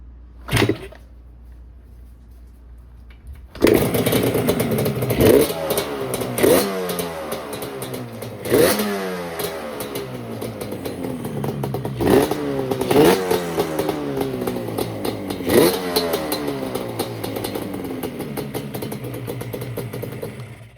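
A Yamaha Banshee ATV found in a barn starts after a quick first catch, then its two-stroke engine runs loud and close with rising and falling revs, rough crackling idle between blips.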